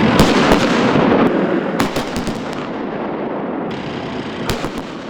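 Military exercise firing by artillery, K1 tanks and armored vehicles, a loud continuous barrage of booms and sharp cracks with dense rumbling between, heard from a distance without talk.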